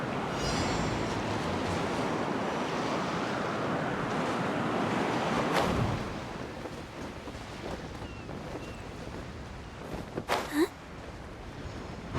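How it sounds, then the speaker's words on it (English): Wind gusting through the Genshin Impact video game world, a broad rushing roar that is strong at first, then eases into a softer, airy wash with a few brief whooshes. "The winds have come at an opportune moment."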